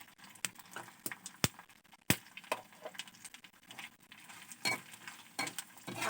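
Dried fish fries in a pan with chopped garlic while being stirred, giving irregular sharp scrapes, taps and clinks of a utensil against the pan at close range, with a soft crackle beneath and no talk.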